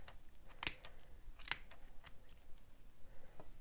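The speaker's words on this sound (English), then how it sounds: "there's these cute little spaces where you actually insert your scissors, and then you just cut" Scissors snip through crochet yarn on a column stitch cowl, two crisp, close cuts about a second apart followed by faint handling sounds in a quiet room.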